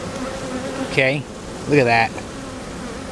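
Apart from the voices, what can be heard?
honey bees buzzing around an open hive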